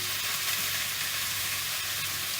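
Pork souvlaki pieces sizzle steadily in a hot pan, a dense, even frying hiss that stays close and constant throughout with no voices over it.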